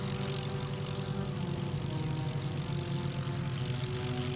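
A Spitfire flies at the Biggin Hill airshow, its propeller engine giving a steady, throbbing drone that holds constant in loudness throughout.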